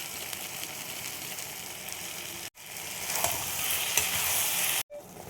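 Okra fries in a pan with Kashmiri red chili powder, a dense continuous sizzle with stirring that swells louder midway, broken by two brief near-silent gaps.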